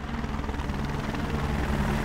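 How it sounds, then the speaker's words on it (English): A helicopter in a Marvel vs Capcom 3 trailer gives off a close, steady rotor chop, a rapid pulsing thump with a droning whine, heard alone for about two seconds. "the trailer starts off with Street Fighter's Chun-Li taking a spin in a helicopter"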